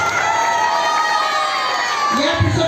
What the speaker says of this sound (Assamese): সবে জোৰকে হাত তালি দিয়ক।